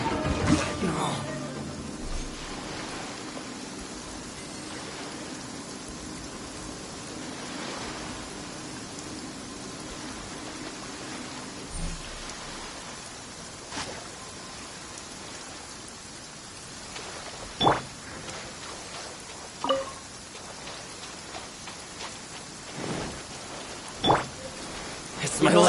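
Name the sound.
rain effect in a video game (Genshin Impact, Inazuma)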